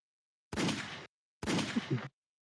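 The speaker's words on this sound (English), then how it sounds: "Where's the gunfire for that" Two short bursts of gunfire, each lasting about half a second, separated by a brief silence. The shots sound moderately loud.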